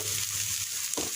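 Close, steady sizzling of bitter gourd frying in a hot pan, with a soft scrape of stirring near the end.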